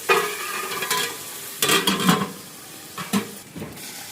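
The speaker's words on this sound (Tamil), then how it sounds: "தக்காளி பழம் போடுறாங்க." Chopped tomatoes added to a hot biryani pan, with sizzling frying and a few sharp stirring scrapes and clatters of utensils against the pan, close and without talk.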